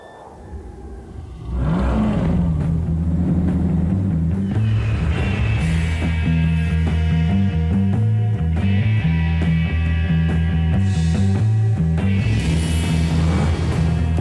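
An Infiniti M45 with a 340-horsepower engine revs in a TV car advert, rising from a quiet start into a loud, sustained roar whose pitch climbs and steps through gear changes.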